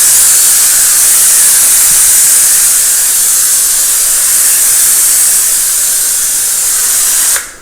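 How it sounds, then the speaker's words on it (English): A household steam cleaner releases a loud, steady, close hiss of steam that holds for several seconds before cutting off abruptly at the end. "let's go ahead and take the steam cleaner."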